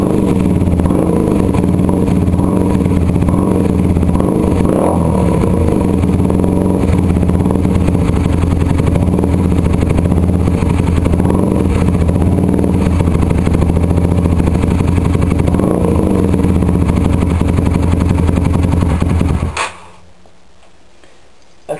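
A loud motorcycle engine runs close by with the exhaust baffle removed, giving an unmuffled, rattling exhaust, steady with slight revving, then cuts off abruptly near the end.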